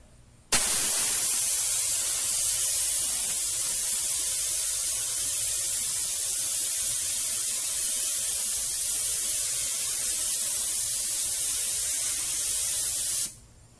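A gravity feed paint sprayer hisses in one long, steady burst for about thirteen seconds, loud and close, starting and stopping abruptly.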